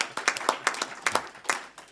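Meeting attendees at an NHS Suffolk and North East Essex board meeting clap briefly, a short burst of sparse, fairly close handclaps from a small group, with no talking.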